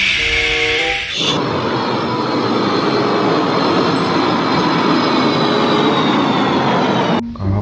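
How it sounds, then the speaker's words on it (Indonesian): A Thomas toy train rumbles loudly and continuously with rattling wheels and a faint squeal, preceded by a short burst of a musical tone. "Wow, ini ada kereta Thomas"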